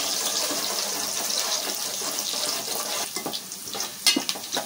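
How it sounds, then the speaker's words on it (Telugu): Onions with curry leaves frying in oil in a pan for capsicum masala curry, a steady close sizzle that gives way to a few scraping stirs and clinks near the end, no talk. "ఉల్లిపాయలు బాగా గోల్డ్ కలర్ వచ్చేదాకా వేపుకోవాలి"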